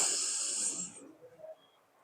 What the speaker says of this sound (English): Now inhale to the top of your lungs.